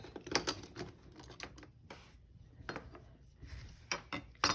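Ultramarine blue and burnt umber oil paint being mixed with a palette knife, a series of light, irregular taps and clicks of metal against a palette, close and fairly quiet, with no talking.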